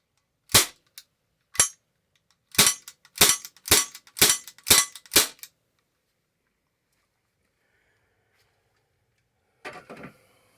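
Airsoft gas blowback pistol test firing: sharp, loud cracks, two single shots then a quick run of six in near-regular rhythm, followed by silence and a faint rustle.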